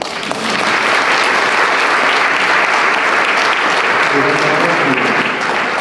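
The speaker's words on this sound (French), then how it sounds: "Maintenant, vous pouvez l'applaudir." An audience at a health talk at the CNAM claps loudly and steadily for several seconds, a dense wash of applause with some voices mixed in.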